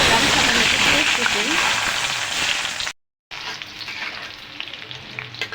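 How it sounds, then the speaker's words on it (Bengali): Loud, steady sizzling of mustard oil in a wok, a dense crackling hiss that cuts out briefly, then resumes more quietly with scattered pops. "এখন কড়াইতে সর্ষের তেল ঢেলে দেব"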